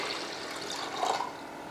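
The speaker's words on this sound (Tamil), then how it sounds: "அதை கழுவிட்டு ஒரு பாத்திரத்தில் போட்டு நல்லா ஒரு 2 செம்பு அளவுக்கு தண்ணி ஊற்றிக்கலாம்." Water poured from a vessel into a cooking pot holding washed sago, a steady soft splashing trickle, fairly faint and heard alone.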